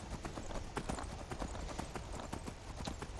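Rhythmic clip-clop of horse hooves trotting at a steady pace in Skyrim, fairly quiet and close, with no voices.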